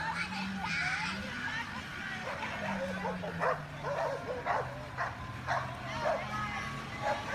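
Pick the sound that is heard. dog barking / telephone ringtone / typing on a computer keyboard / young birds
dog barking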